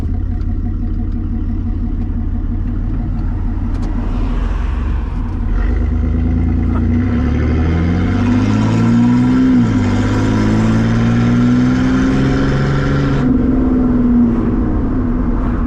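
A V6 Chevrolet S10 pickup with a DIY boom tube straight exhaust rumbles loudly and steadily, then revs up and down with a deep, raspy exhaust note, very close, no voices.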